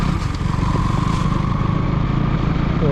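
A motorcycle rides along a quiet city walkway at night in Coimbatore, its engine a steady, continuous drone close by, with no talk over it.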